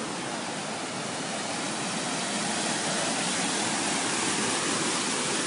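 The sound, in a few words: strong rushing water of a flooded stream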